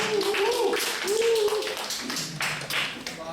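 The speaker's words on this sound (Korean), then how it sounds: "앞으로 나올 때 큰 박수 드리겠습니다." Church congregation clapping during a young adults' worship service as a small group comes forward, with continuous applause mixed under music and a voice.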